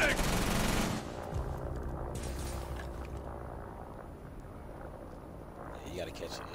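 Rapid video game gunfire, a dense loud burst of automatic shots for the first second, then continued quieter shooting and game noise under voices talking.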